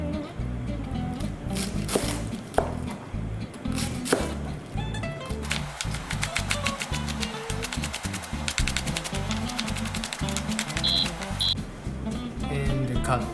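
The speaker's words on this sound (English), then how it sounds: "cut the cabbage and the pork." Knife chopping cabbage and pork on a cutting board for okonomiyaki, a run of quick rhythmic taps speeding into rapid bursts, close and clear, with a voice speaking over parts of it.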